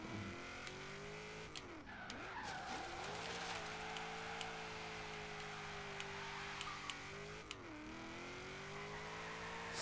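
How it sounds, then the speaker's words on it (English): A V8 car engine in the racing game Forza Horizon 3: a loud, steady rumbling drone with revs dipping and climbing between gear changes and a faint tire squeal, continuous throughout with no talking. "Sounds like a V8 car"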